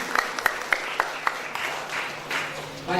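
Applause from the audience at an open village-head candidate debate, a few scattered sharp claps at first, then a soft, distant wash of clapping building slightly toward the end.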